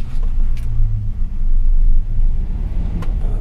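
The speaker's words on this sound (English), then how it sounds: "Car starts up wonderful." Engine of a one-owner 1964 Crown Imperial car idling, a steady loud low rumble that runs throughout with only slight swells and no talking.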